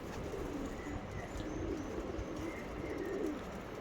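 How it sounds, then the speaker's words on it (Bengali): Andhra Mangalagiri breed pigeons, Lalsira, Fulsira and Lambadi pairs in a loft, give faint low cooing over a steady noisy background, the calls soft and distant throughout. "খুব ভালো কোয়ালিটির পায়রা"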